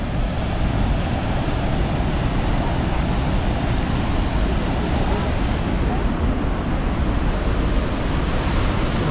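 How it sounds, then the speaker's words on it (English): Fast-flowing river water rushes beneath Natural Bridge in Yoho National Park, Canada, a dense, steady roar with no breaks, heard close up and loud. "Water coming down here quite quick."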